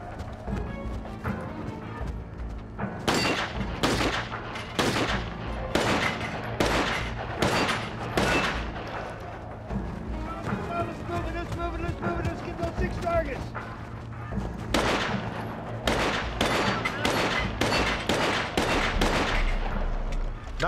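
Soldiers on a timed training course fire an M9 pistol and an M4 rifle, producing rapid bursts of loud, close gunshots in irregular clusters over a constant background rumble.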